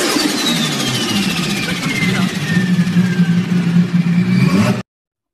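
A turbocharged car engine with a blow-off valve venting to the atmosphere gives a loud, steady roar and a falling whistle sweeping downward, then cuts off abruptly near the end.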